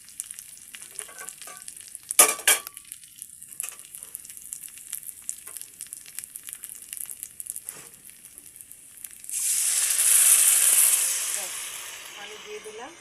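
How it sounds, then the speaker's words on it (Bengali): Raisins, walnuts and cashews fry with sugar in a pan, giving soft scraping and stirring clicks at first, then a loud steady sizzle that swells and fades near the end. "এই যে কিশমিশগুলো একটু ফুলে ফুলে উঠেছে, আখরোটগুলো একটু ইয়ে হয়েছে, কাজুটা ভাজা হয়ে গেছে, সব একসাথে ভাজা নিয়েছি।"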